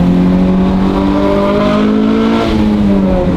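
Honda S2000 engine revving with the exhaust valves closed, a steady, muffled drone that rises gently then eases off, close and uninterrupted with no talk over it.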